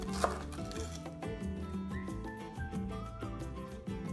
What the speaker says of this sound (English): Just cut those ends off here as well. Chop them up.